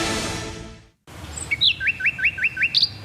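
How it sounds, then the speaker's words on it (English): Small garden birds chirp in a quick rhythmic series of bright, clear tweets, close and alone after a brief pause, with a soft background hiss. "The sound of adorable little birds in your garden."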